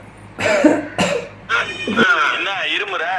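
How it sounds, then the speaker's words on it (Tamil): A person coughs in two sharp, close bursts, with a throat-clearing sound, during a couple's sneezing challenge at home; a voice then talks over the end. "என்ன இருமுற?"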